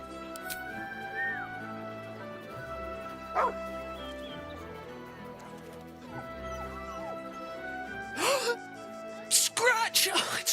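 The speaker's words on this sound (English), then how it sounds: "He's a good dog." A dog in Baldur's Gate 3 barks over soft game music: a single bark early on, then a cluster of sharper, louder barks and yips toward the end.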